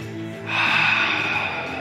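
One long, forceful exhale during a neuro boxing exercise, a loud, breathy rush of air heard up close over a faint background tone.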